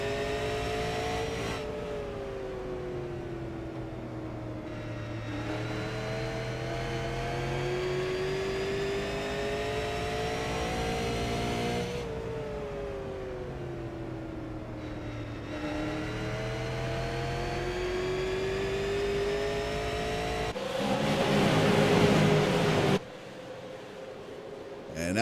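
A race car engine at USA Speedway surges through repeated rising gear pulls on a green flag restart, loud and close as if heard on board, with a commentator's voice running over it.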